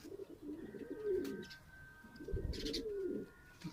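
Pigeons coo softly on a rooftop loft, two low rolling coos a second or so apart, with faint chirps and a thin steady tone behind them.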